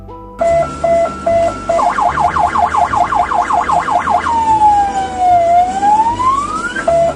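Ambulance siren in Russia, loud and close: short repeated two-tone beeps, then a fast warbling wail, then a long slow sweeping tone, with no talking.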